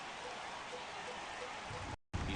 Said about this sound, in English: the rain starting to intensify here. It's coming down a little heavier now.